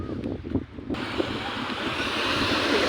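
Ocean waves wash onto a beach in the Canary Islands, a steady, loud surf roar with wind buffeting the microphone and a slight swell toward the end, with no voices.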